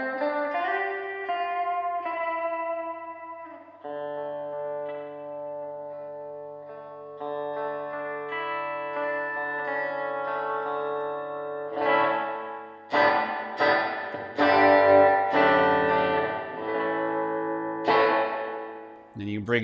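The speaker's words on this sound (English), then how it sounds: "you can just get the wet reverb signal controlled with its own volume" Only the wet reverb signal from a Rift guitar amp, with the dry signal off: sustained, washy guitar notes and chords ringing out with a long shimmering tail, then a burst of brighter strummed attacks near the end.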